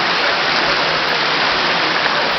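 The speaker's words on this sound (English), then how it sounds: "it's raining and raining and raining" Heavy rain falls on a street, a dense, steady hiss of downpour playing back loud and continuous, with no talking.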